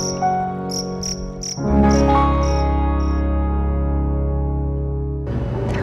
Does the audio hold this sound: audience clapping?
no